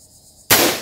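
An M110 rifle fires one abrupt, loud shot after a quiet lead-in, and the sharp blast holds briefly before it starts to fade. No one speaks.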